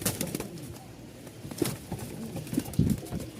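Pigeons at a farm in Mirpur-1, Dhaka, give soft intermittent coos and small rustling sounds, close by and fairly quiet, with no one speaking.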